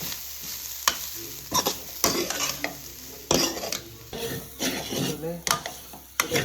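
Chicken sukka, a Mangalorean dry chicken dish, sizzles steadily in a pan, with repeated sharp scrapes and clatters of a spoon stirring through it, close up and with no talking.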